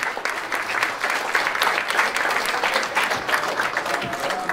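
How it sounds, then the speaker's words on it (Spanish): Steady applause from a party crowd at a quinceañera fills the space, dense continuous clapping at even loudness throughout. "vamos a brindarles otro fuerte y merecido aplauso"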